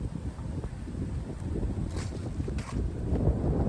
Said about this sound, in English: it's kind of windy, but it's like not that windy